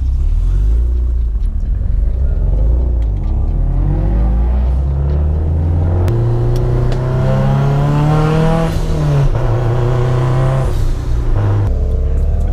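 A Subaru STI with a loud aftermarket exhaust revs hard and rises through rumbling engine sweeps, with sharp backfire pops crackling between revs, close and very loud throughout with no talking.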